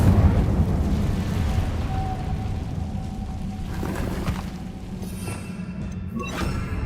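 The Incendio fire spell in Hogwarts Legacy erupts with a dense roaring whoosh, a sustained rumbling burst of flame with crackling and a fading magical shimmer near the end.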